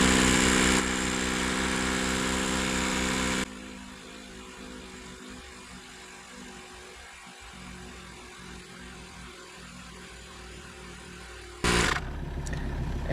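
An electric pump runs steadily while inflating the front tire of a Hiboy P6 e-bike, a constant close whirring drone that cuts off midway and briefly starts again near the end, with no speech.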